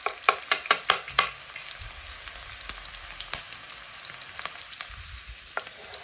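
Chopped onion sizzles and fries in a hot pan, a steady crackling hiss with a few sharp clicks of stirring near the start, no voices over it.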